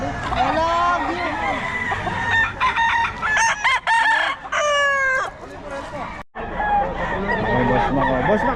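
Gamefowl roosters crow loudly and repeatedly at a bustling Bocaue market, several birds close by with clucking in between, while people talk throughout.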